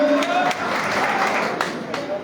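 A crowd claps in sustained applause, dense and steady throughout, with a faint tonal sound fading out near the start.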